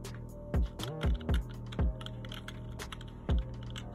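Keys on an NPK10 mechanical keyboard are pressed one at a time, producing about six distinct close clacks with short pauses between them in a quiet room.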